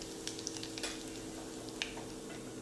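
Mustard seeds and spices sizzle and crackle in hot oil, a steady, quiet frying hiss with scattered small pops and spits throughout.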